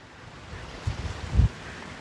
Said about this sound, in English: it's a nice stretch of beach along here, but it is very, very breezy